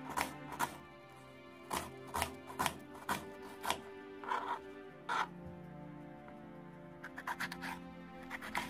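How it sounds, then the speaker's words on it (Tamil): A knife chops onion, capsicum, green chilli and lemon on a board, sharp knocks landing in uneven bursts, some quick and clustered, others spaced, close and fairly quiet with a faint background hum. "கொஞ்சம் வெங்காயம், கேப்சிகம், பச்சை மிளகாய், லெமன் வந்து கட் பண்ணிகிட்ருக்கேன்"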